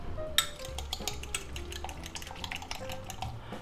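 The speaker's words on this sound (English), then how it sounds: "And then we're going to beat that up." A utensil clatters and scrapes briskly against a bowl as eggs are beaten with spinach and green onion, a quick irregular tapping and stirring heard close and alone.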